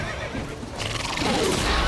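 A horse in The Witcher 3: Wild Hunt whinnies loudly and close, a quavering neigh rising and falling over game noise, with hooves clopping faintly underneath.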